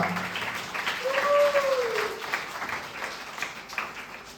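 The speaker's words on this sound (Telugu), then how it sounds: "గట్టిగా క్లాప్స్ కొట్టాలా?" Audience applause at a Telugu Sunday church sermon, a spread of clapping from a seated congregation, moderately loud with a voice rising briefly over it.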